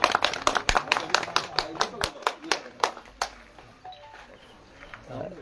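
Audience clapping rings out in a string of sharp, evenly spaced claps that sound like a few hands together, then stops after about three seconds, leaving quiet room noise with faint voices.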